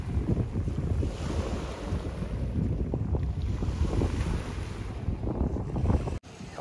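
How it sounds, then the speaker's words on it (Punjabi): Lake water laps and washes at Frenchman's Bay Marina in Toronto, Canada, in the evening, a steady close wash of small waves heavily buffeted by wind noise on the microphone, ending with a brief dropout. "ਆਹ ਸੁਣ ਲਓ ਪਾਣੀ"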